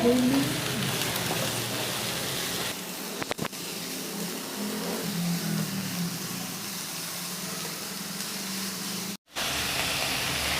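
Vegetables for Hakka noodles sauté in a hot pan with a steady, fairly loud sizzling hiss that runs almost unbroken, with one short gap near the end.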